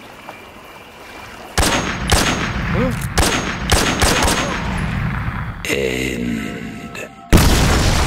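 Sniper rifle shots aimed at The End in Metal Gear Solid 3 boom out as a series of heavy, close reports spaced roughly half a second to a second apart, ending in one loud blast; a single word is spoken during the shots.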